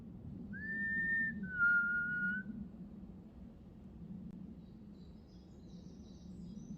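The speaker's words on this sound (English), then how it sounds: "Can you whistle again?" Two short whistled notes, the first rising then holding, the second slightly lower, sound faintly over a quiet low hum before fading to near silence.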